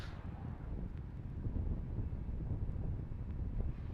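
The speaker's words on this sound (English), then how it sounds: "So it continues to be quite blustery here." Gusty wind at the Cape Canaveral launch site buffets the microphone in a steady low roar that swells and eases slightly, with no voices.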